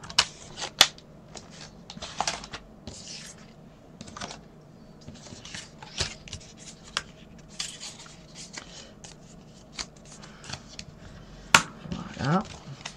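Paper folds are creased into a place card with sharp, scattered scraping and pressing strokes, close and fairly quiet, with short irregular bursts and pauses, as a person speaks intermittently.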